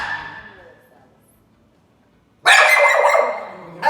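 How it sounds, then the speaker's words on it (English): A dog barking at a deer outdoors: a faint whimpering stretch fades to near silence, then one loud, close bark bursts out, followed by a sharp second yap at the very end. "Barking at a deer."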